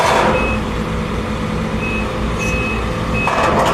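Truck reversing beeps at a work site near a backhoe, evenly spaced high beeps repeating several times over a loud engine rumble, with a short hiss of air near the end.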